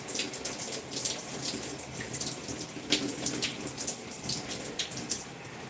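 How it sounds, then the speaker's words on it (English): Water runs steadily from a tap while hair is rinsed during a wash-and-go routine on natural gray hair, a continuous close splashing rush with small irregular spatters and no talking. "Rinse my hair off."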